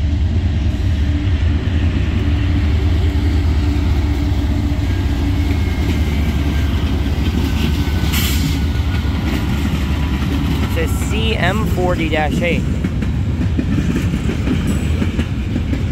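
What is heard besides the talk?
CSX freight train with Dash 8 locomotive passing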